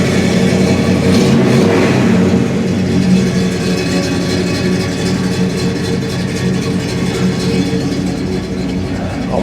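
Built-up 302 V8 engine with a mild cam, a loud continuous rumbling run with a rev rise early on, holding steady throughout with no talk.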